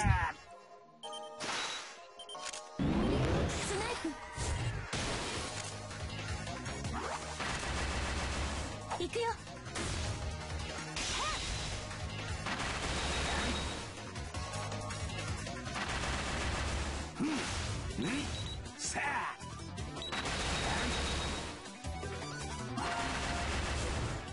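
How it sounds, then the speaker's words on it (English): In the Black Rock Shooter video game, a missile attack brings a dense run of explosive blasts, crashes and rapid gunfire-like impacts that go on almost without a break, loud and busy, with game music and effects mixed in. "Oh no, missiles!"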